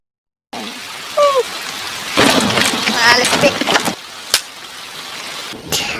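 Rain falls in a stormy outdoor night scene beside a parked car, a steady wash of hiss mixed with music, a brief voice and a couple of sharp knocks.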